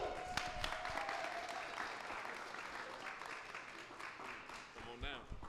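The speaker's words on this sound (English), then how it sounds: "Thank you for that huge round of applause" Audience clapping for a guest being introduced at a fashion week event, a steady, fairly soft wash of applause that carries on throughout, with a voice speaking over it.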